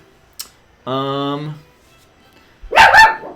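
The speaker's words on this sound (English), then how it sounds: "My apologies for my dog freaking out." A dog indoors, reacting to people walking across the road. A single sharp, close bark, then a longer sustained whine or howl-like yelp, then another loud bark burst, with short quiet gaps between.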